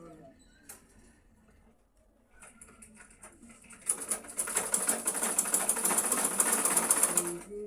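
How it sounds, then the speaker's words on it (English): Sewing machine stitching a dart in a lace princess-style padded blouse, a steady rapid mechanical patter building up after a quiet start, near and fairly loud, with faint handling sounds before it. "So now let's sew our dart."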